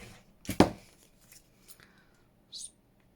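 Scissors snip through washi tape in a quick close double cut, followed by faint rustling and a brief soft snip.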